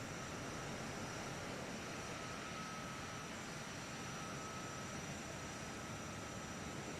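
Steady broadband drone of a landing aircraft with flaps down in a flight video game, a continuous engine and air roar with a faint high whine, even in level throughout, no talk.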